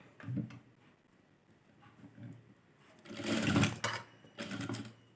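Sewing machine stitching an embroidery design on a blouse: short bursts of fast, rattling needle strokes, the longest and loudest toward the end, separated by quiet pauses, close to the listener.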